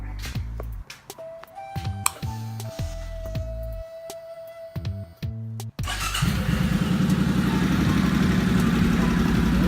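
A 2011 Suzuki C50T motorcycle with loud Cobra drag pipes cranks through several stuttering starter attempts, then catches and settles into a loud, throaty, continuous idle inside a garage.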